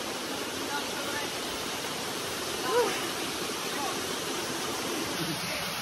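Steady broadband rush of the Monte Cal waterfall fills the scene, constant and fairly loud, while a person speaks briefly over it.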